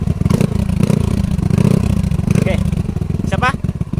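Motorcycle engine revving with its muffler silencer fitted, a loud, close, rough rumbling idle that pulses and swells, with a voice speaking briefly over it near the end.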